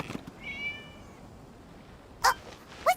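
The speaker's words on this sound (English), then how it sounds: "It was just a cat." A cat meows in Genshin Impact, one drawn-out, fairly clear mew near the start, then two short, sharper sounds close to the end over quiet background ambience.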